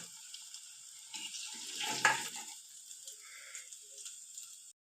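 Lauki koftas, bottle gourd dumplings, sizzle in hot oil as they fry until golden, a steady soft hiss with brief stirring rattles midway.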